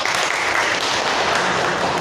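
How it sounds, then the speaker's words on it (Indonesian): Classroom applause during a small-group teaching lesson: a dense, loud wash of clapping hands filling the whole short stretch, steady and without pauses. "Berikan tepuk tangannya."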